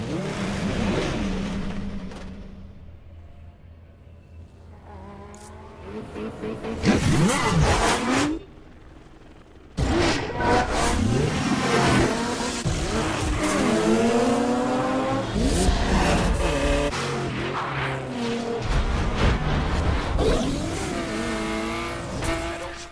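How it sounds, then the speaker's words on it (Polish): A Nissan Skyline races in The Crew video game, its engine revving and shifting through rising and falling pitch sweeps, loud and close, briefly dropping off before accelerating hard again. "No i właśnie ścigamy się jednym z samochodów, który bardzo lubię, jest to Nissan Skyline"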